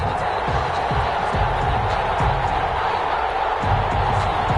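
A stadium crowd roars steadily in a Madden football video game before a New England Patriots versus Las Vegas Raiders kickoff at Allegiant Stadium, a dense continuous wash of noise with low thumps throughout.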